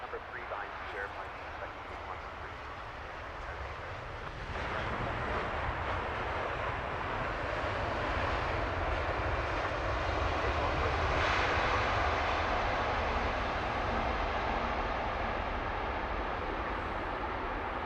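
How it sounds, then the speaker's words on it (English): An Air Canada Dreamliner airliner takes off at London Heathrow Airport, its engines a loud, steady broadband roar that swells partway through and holds, with a voice speaking over it. "Air Canada Dreamer taking all of the runway there"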